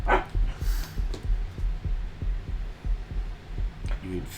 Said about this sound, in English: You can feel his heartbeat.